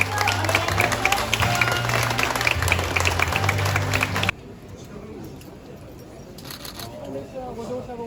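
A crowd applauds at the first-day opening ceremony of the Fukuoka City Subway Nanakuma Line extension at Hakata Station in 2023; dense clapping runs under an amplified voice and low tones for about four seconds, then cuts abruptly to quieter station ambience.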